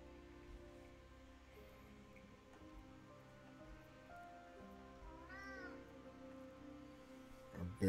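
A cat meows in the dark fantasy game Moonscars, with a rising mew near the middle over steady game music and ambience, and a sharp sound at the very end.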